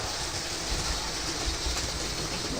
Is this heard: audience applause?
no